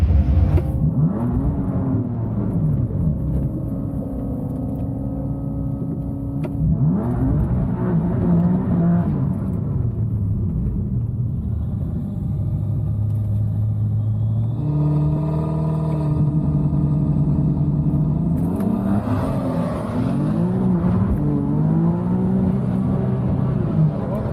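A 700hp BMW M3 launches on a quarter-mile drag pass with wheelspin, its engine roaring loud and close as it revs and sweeps up through several gear changes over a continuous rumble.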